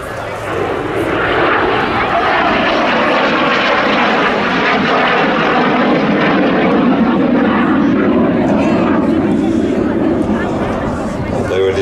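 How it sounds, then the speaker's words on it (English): A BAC Jet Provost Mark III jet trainer roars steadily overhead at an air show, a loud, sustained engine rush with a slowly shifting pitch as it passes, while an announcer talks over it. "Mark Hooton flying the Jet Provost Mark III."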